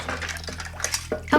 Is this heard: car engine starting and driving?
no